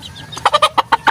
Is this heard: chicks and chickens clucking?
yes